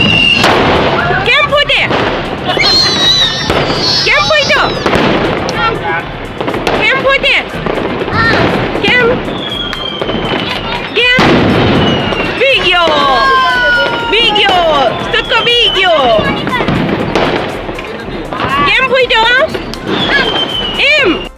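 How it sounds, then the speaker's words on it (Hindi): Firecrackers burst close by during a Diwali celebration, with scattered sharp bangs breaking through nearly constant talk and chatter from people nearby. "पास में ही बम इतने फूट रहे थे"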